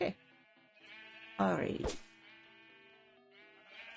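A sheep gives one loud, wavering bleat lasting about half a second, close and clear, while someone talks around it about dyeing white sheep blue.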